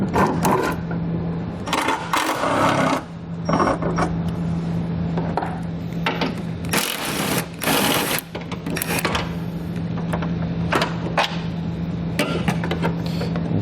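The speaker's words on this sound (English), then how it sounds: "So we'll grab a 13mm socket and start removing them." A 13mm socket on a ratchet backs out bolts from the battery hold-down bar of a 2016 GMC Sierra truck, giving steady, loud, close ratcheting clicks in bursts with brief pauses and metallic clinks, no voices.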